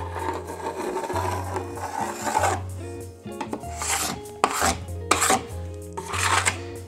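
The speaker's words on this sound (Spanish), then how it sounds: "todas las rasquetas suelen tener una pequeña muesca que es para quitar el exceso de cera que hubiese podido caer al canto" A plastic scraper removes excess wax from a snowboard, including the wax on the edge. Repeated rasping strokes in an uneven rhythm sound close and fairly loud over a low steady hum, and no one speaks.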